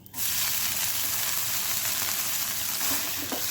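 Water splashed onto a hot, lightly greased iron dosa tawa bursts into a loud, steady sizzle that carries on for several seconds with no other sounds.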